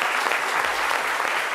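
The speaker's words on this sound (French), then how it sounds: "applaudissements pour lui." A studio audience on a midday television show claps for a guest, giving a brief, dense and steady round of applause at close range.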